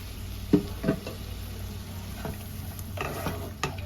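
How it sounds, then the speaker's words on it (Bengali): Spice masala with turmeric is stirred and fried in a pan, a faint low sizzle punctuated by a few soft scraping strokes of the spoon, with no voices. "এবার ভালো করে মিক্স করে দেবো মশলাটা যাতে পুড়ে না যায় তার জন্য একটু জল দিয়ে দেবো"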